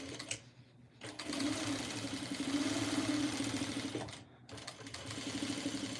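A sewing machine stitches quilt fabric in two runs of rapid, even mechanical whirring, close by, with short pauses at the start and again near the four-second mark.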